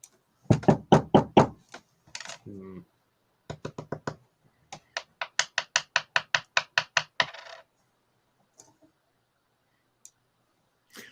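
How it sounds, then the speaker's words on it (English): Hard objects knocked repeatedly on a desk in quick bursts of sharp, close taps, pausing between runs, with a few isolated clicks near the end and no talk. "Knock something on the desk."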